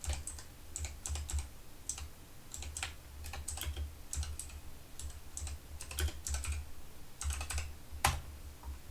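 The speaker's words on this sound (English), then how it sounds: "And I will type that out." Someone typing on a computer keyboard, a steady patter of close, soft key clicks with brief pauses and a low hum underneath, no voices.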